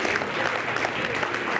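Steady applause from an audience at a school excellence awards ceremony at the Rietvlei site, dense clapping that stays at an even level throughout the short stretch.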